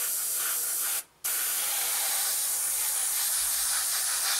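Close, steady hiss of an airbrush or spray can laying a brown coat on a 1/72 scale Revell Halifax Mk.III model aircraft kit, with a short pause partway before spraying resumes, no voices.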